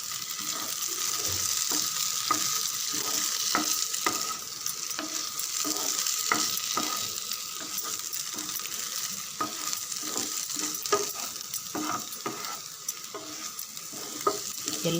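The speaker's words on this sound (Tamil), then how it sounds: "லைட்டாக கலந்து விடுங்க" An evening snack mixture is stirred in a pan after the stove is switched off, with a soft continuous sizzle under repeated scraping and clinking strokes of a spoon at an uneven rhythm, and no voices.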